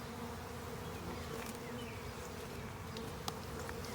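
Honeybees buzz steadily around a newly installed hive in spring, a soft continuous drone with occasional nearer individual flybys.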